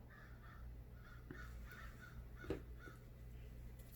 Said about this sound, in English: I have a murder of crows out there.